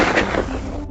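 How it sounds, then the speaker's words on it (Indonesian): A single sharp gunshot bursts out loud and close during a fight against orcs, its boom decaying quickly within a second. "mereka terkejut karena ada suara tembakan"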